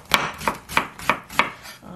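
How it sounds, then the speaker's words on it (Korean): Knife chopping an eggplant in poor condition into small pieces on a board: five evenly spaced, crisp thuds about a third of a second apart, close and clear with nobody speaking. "냉장간에 상태 안 좋은 가지도 이렇게 해서 잘게 이렇게 좀 작게 썰어 주겠습니다"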